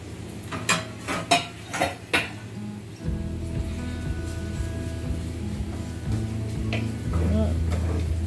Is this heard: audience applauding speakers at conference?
no